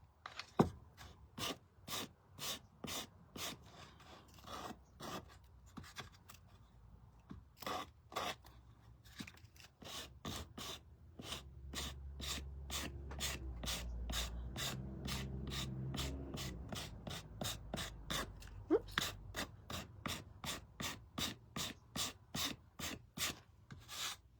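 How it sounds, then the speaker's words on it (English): A painted wooden piece rubbed with sandpaper in steady, evenly spaced strokes, close and quiet, with a low rumbling background swelling through the middle and no voices. "I'm going to switch, just kind of roll over to a new little section on the sandpaper."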